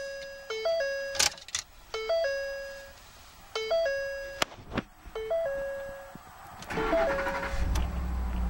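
A repeating electronic chime plays several times, then a 2013 Ford F-150 pickup truck's engine cranks and starts close by with a low rumble.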